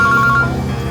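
A mobile phone rings with an incoming call in a tight, repeating electronic tone pattern, near and fairly loud over a dense background.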